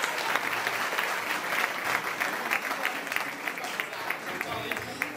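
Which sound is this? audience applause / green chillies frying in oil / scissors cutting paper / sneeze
audience applause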